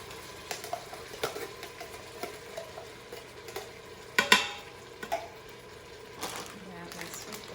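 Kidney beans go into a Cajun-style venison sausage and sweet potato stew pot, giving soft clinks, a brief pouring rattle and light stirring scrapes, with quiet kitchen background throughout.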